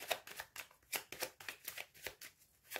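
Tarot cards shuffled by hand for a reading, a quiet close riffle of repeated soft bursts at a steady rhythm, about a dozen strokes in a row with no voice.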